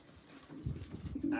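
Racing pigeons coo in a loft while being basketed for a race, a low, soft burbling close by and fairly steady throughout.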